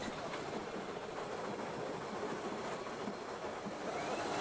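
Steam locomotive Taw Valley working hard up a steep bank, a steady broad rumble and hiss with a faint rhythmic beat throughout, fairly distant and continuous, with no voices.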